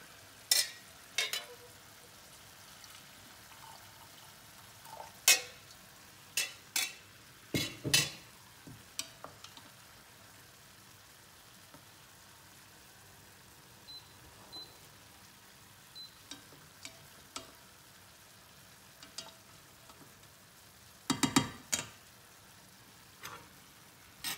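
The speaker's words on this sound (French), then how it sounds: "Donc là notre risotto il cuit gentiment, là c'est presque réduit." Lentil and white asparagus risotto cooking gently in a pan, a soft, faint bubbling simmer broken by occasional sharp spoon scrapes and taps in scattered clusters.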